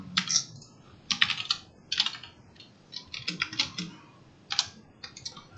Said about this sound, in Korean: 이거는 Shift 키 누르고 8 Shift랑 8 같이 누르면 됩니다